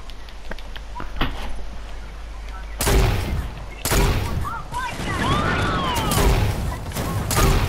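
Grenade launcher fire in a video game bursts out in several loud, explosive booms over a constant background din, with whistling, swooping game effects layered between the blasts.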